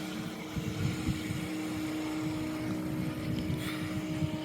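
Buzzing RC floatplane engine towing a glider aloft, a steady drone at a moderate distance mixed with wind and outdoor noise, no talking.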